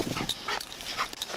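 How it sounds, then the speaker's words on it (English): Police dog in the Motor Town video game whimpering and yipping in short, excited bursts, close and fairly loud. "Casey, I'm gonna put the dog up for now."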